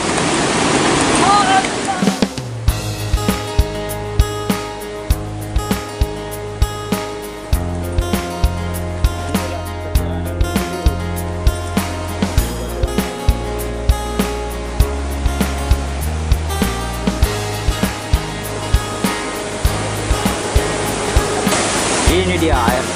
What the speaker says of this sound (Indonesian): Ini dia air terjun Tumageli.